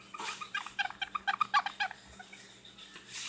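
Wet bouncy balls are rubbed together and give a quick run of about a dozen close, sharp, high squeaks that stop abruptly, with quiet room noise afterward.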